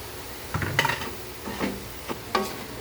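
Sautéed chayote and carrots stirred in a pan, with a few separate scraping clatters of the utensil over a faint sizzle, close and moderately loud.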